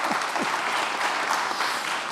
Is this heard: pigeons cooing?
no